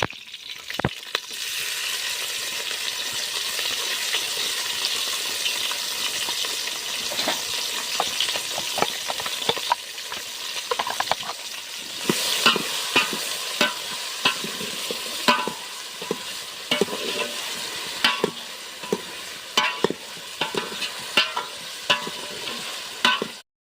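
Chopped onions fry and get stirred in an oiled pan for a whole-garlic sabji, with a steady close sizzle throughout and spatula scrapes and clicks growing busier in the second half, no voices.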